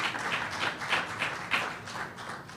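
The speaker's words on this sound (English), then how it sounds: "You can clap for that." Town hall audience in Laredo applauding, a soft, steady wash of many hands clapping at a distance for a couple of seconds.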